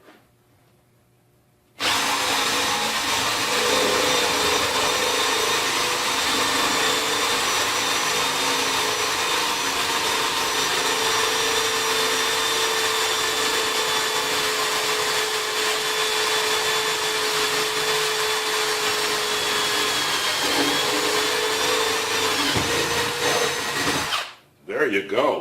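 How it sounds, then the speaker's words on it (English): A Milwaukee M18 hammer drill on drill setting drives a spade wood bit hard and fast into wood, a loud steady motor whine with grinding bite lasting about twenty seconds, starting abruptly and winding down at the end. "we have a basic spade bit there, wood bit. Let's see how it'll go through there."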